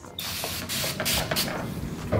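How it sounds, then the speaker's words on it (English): Quick, hissing spritzes of water from a spray bottle onto hair, close up, several in a row over steady background hiss. "I have my spray bottle here with water. I'm gonna spray a little bit."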